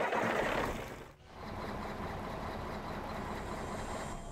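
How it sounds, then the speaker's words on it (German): A MAN NL313 city bus engine in the OMSI 2 simulator, heard from outside: a steady low rumbling idle, briefly dipping once before settling into an even drone with no talking. "Mach mal den Motor wieder an."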